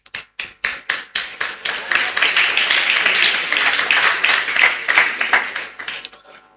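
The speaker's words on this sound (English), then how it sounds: "That applause was for you." Applause at a primary school graduation ceremony starts with a few separate loud claps, swells into a close, dense burst of clapping from the audience, then tapers off.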